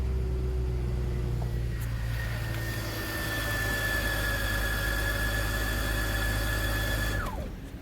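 BMW X5 with a hard-starting fault cranking at length, a loud steady rumbling drone with a rising squeal-like whine that holds for several seconds and then drops away as the cranking ends, no talk.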